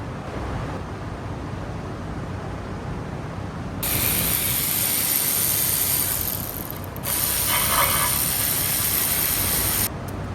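A ratchet tightens bolts on a 5.3 LS engine, two long, loud bursts of rapid clicking close by, separated by a brief pause, with quiet shop ambience before and between.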